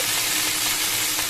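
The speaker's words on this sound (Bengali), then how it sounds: "আমি সবজি অতটা ডিপ ফ্রাই পছন্দ করি না, যার জন্য আমি একসাথেই নেড়ে চেড়ে নেবো সব" Mixed vegetables fry in a pan with a dense, even sizzle, close and continuous with no talking.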